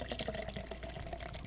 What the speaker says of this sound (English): Pouring out some more.